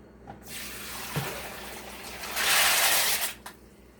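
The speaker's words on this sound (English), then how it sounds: "I'm going to drain this water and clean them again" Water pours and splashes steadily as dirty water is drained from a pot of beans, swelling into a louder rushing gush before stopping abruptly.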